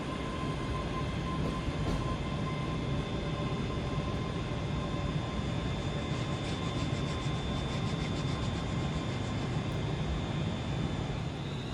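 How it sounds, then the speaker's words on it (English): A Scotrail class 385 electric train at Glasgow Central station produces a steady, continuous rumble and hum, with a faint high whine running throughout and no clear start or stop. "That's 385026 and is running about 4 minutes early"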